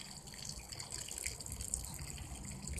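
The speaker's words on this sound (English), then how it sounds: "You don't want to directly put the water on" Water pouring and splashing steadily onto potted black ginger plants, a continuous close, moderately loud gush with no talking.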